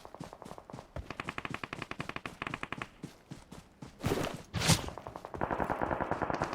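Gunfire in PUBG Mobile: rapid bursts of automatic shots with short gaps, a couple of louder booming blasts midway, then another fast volley, no talk.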